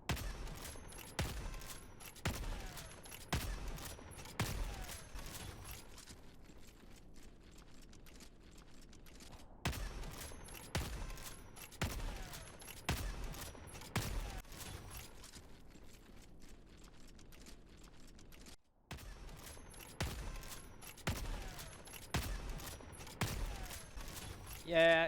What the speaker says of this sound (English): I'm gonna simulate 6 kills with the Constitution, shooting them in the chest plate, which is 5 shots per kill.